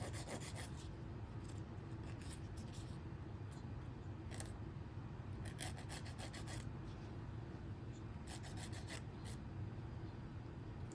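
A 100/180 grit nail file shapes a gel nail extension, giving a continuous close rasping and buffing with steady back-and-forth strokes and no talking.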